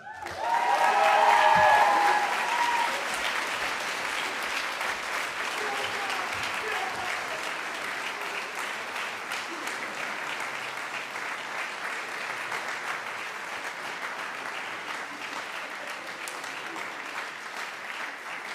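Sustained applause from a concert audience at a high school band spring concert and awards night, loud at first and then steady, a dense wash of clapping hands filling the hall for an honored student.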